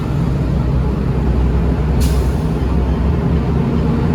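A Peterbilt 389 semi truck sits at a steady, loud idle rumble close by, and one short air brake hiss bursts out midway before the engine drone carries on alone.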